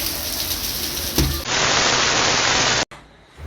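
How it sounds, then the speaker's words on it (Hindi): Heavy rain pours down as a dense, loud hiss that shifts in character midway, then cuts abruptly to a quieter wash of falling water. "बहुत ज़ोर से बारिश हो रही है।"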